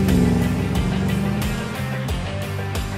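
A Land Rover Defender fitted with an LS3 Corvette V8 accelerates hard. The engine note climbs through several gear changes and is loud and close, with no voices.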